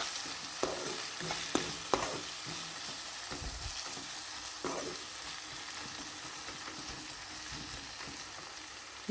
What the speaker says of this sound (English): Saute it again.